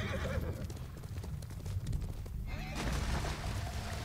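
A horse in the video game Ghost of Tsushima gallops with rapid clip-clop hoofbeats and snorts, then neighs loudly partway through, all close and clear against game ambience.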